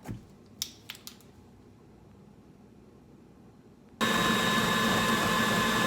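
An electric mixer starting up to beat pound cake batter flavored with almond, a few light clicks and taps, then a sudden loud steady whirring hum that continues to the end.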